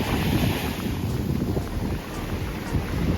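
Strong, steady wind buffets the microphone at a clear-water beach on Lombok, Indonesia, with a continuous low roar and faint surf underneath and no voices.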